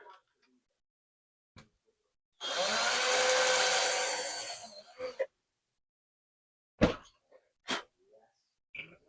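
A drill whirs for about three seconds as it bores into a plastic model part for a TIE fighter maintenance platform, then cuts off, followed by a few sharp clicks and taps.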